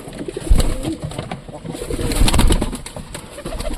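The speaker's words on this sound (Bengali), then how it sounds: "তো খেতে দিলাম সব কবুতরগুলো দেখবো ধীরে ধীরে নামবে সব" A flock of pigeons coos softly nearby while being fed, with low burbling calls overlapping and rising in the second half, alongside some light handling noise.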